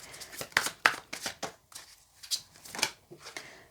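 Tarot cards riffled and shuffled by hand in a series of short, crisp bursts with brief pauses between them, close up and fairly quiet, with no voices over them.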